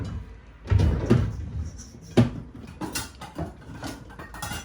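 A kitchen drawer slides open and shut while someone fetches a spoon, with several close knocks, slides and clatters in an irregular rhythm.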